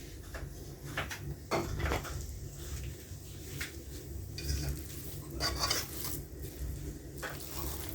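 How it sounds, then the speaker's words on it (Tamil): A fork stirs chicken biryani in a pot, giving soft repeated scraping and clinks against the metal at an irregular pace, fairly quiet and close with no voices. "இந்த மாதிரி ஒரு ஃபோர்க் வச்சு கிண்டி விட்டுக்கலாம்."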